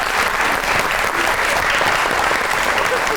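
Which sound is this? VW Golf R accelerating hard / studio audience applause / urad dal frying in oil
studio audience applause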